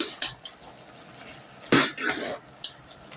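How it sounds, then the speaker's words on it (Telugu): A spoon stirs ginger garlic paste into a homegrown broad bean curry in a metal pan, making sharp scattered clinks and scrapes over a faint sizzle, close by. "అల్లం వెల్లుల్లి పేస్ట్ కూడా వేసుకున్నాం కదా, మంచి కలిపేసుకుందాం."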